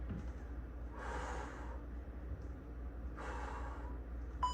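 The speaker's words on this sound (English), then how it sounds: "You can hear me breathing." Heavy, forceful breaths in two long bursts, each a strained exhale with a pause of quieter breathing between, close to the listener.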